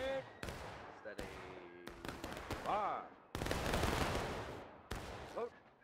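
Musket volleys crack out in the Civil War video game War of Rights during an Antietam battle, sharp overlapping gunshots in ragged bursts with echoing tails, the longest near the middle, while voices call out between them.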